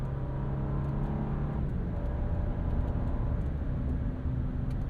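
A low, steady V6 engine drone rumbles from inside a moving 2025 Nissan Armada SUV, with a soft hum and whir that stays even throughout.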